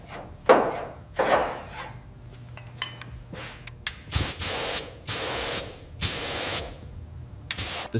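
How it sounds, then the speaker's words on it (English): Spray gun laying a second primer coat on a 1955 Packard Caribbean car body in the factory, heard as several loud sustained hissing bursts in quick succession, with softer hissing and knocks before them. "The second primer coat is applied"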